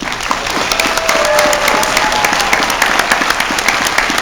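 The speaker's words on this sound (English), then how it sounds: "I'd like everyone to give a round of applause to our panel." A convention panel audience at a comic con breaks into loud, sustained applause, with dense clapping and a few sharper individual claps standing out over four seconds.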